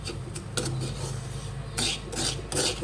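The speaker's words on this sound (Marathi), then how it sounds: "त्याला सारखं हलवत राहायचं मी गॅसवरच करायचं हे सगळं" A thickening sesame and caramel mixture is stirred in a pan over a gas flame, giving repeated rasping scrapes of the spoon against the pan over a low steady hiss, close and without speech.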